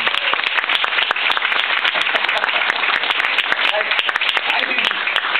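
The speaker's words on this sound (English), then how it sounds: "Give them a round of applause" A live show audience claps in dense, continuous applause throughout, sharp individual claps standing out from the steady wash of hands.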